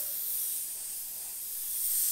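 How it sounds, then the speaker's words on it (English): A Sagola XTECH 500 suction-feed airbrush sprays paint in a steady, close, continuous hiss lasting a couple of seconds. "So let's go ahead and give it a bit of a spray."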